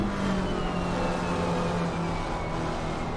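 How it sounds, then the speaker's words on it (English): Racing car in a racing video game circling Misano as the driver eases off the accelerator, a steady engine whine and tyre roar with small dips in pitch, no voices. "so he's having to take his foot off the accelerator all the time"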